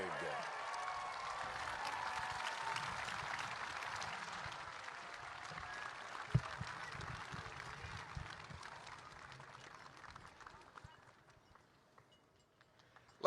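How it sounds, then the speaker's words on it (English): A crowd applauds steadily for an arriving torchbearer, Antoine Craig, a dense, continuous wash of clapping that lasts several seconds with a sharp pop in the middle, then thins and fades toward the end. "How about one more big round of applause?"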